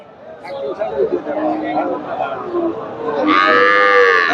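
Busy outdoor hubbub of voices and animal noise at the Dakumara cattle market in Bogura, then a loud, drawn-out cow moo rings out close by over the chatter.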